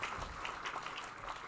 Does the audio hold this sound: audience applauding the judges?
yes